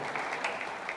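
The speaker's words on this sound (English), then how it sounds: "Give yourself a round of applause" Applause from a conference audience at a morning summit in Sydney, a brief, faint burst of steady clapping from a distant crowd.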